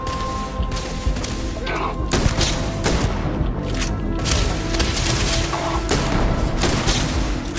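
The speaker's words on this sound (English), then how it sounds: "That's got to be an EM weapon." EM weapon fire in a Starfield firefight, rapid bursts of sharp gunshots and heavy thuds repeating across several seconds, loud and close, with a player talking over the shooting.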